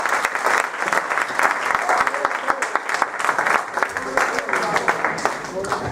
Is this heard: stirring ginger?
no